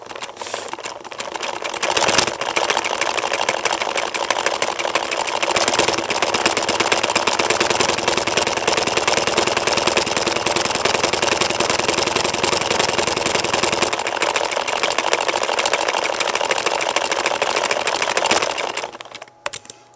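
A small Lego-built engine runs steadily at quick speed, giving a dense, continuous mechanical whir and clatter that stays loud and even for most of the stretch before cutting off near the end.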